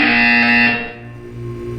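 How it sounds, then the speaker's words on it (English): A harsh electronic buzzer from the video game Portal 2 sounds loud and sustained for about three quarters of a second, then fades into a lower humming tone. "When you hear the buzzer, look up at the ceiling."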